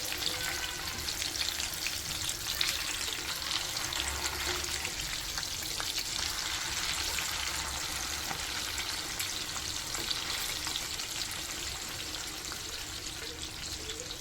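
Nemmeen fish sizzles steadily in a frying pan, a dense continuous crackle of hot oil with faint stirring and liquid sounds underneath, close and even throughout with no talking.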